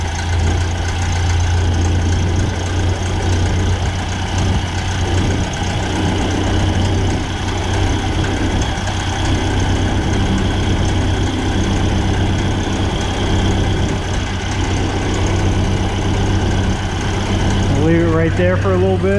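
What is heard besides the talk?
Ford Model A engine idling after carburetor adjustment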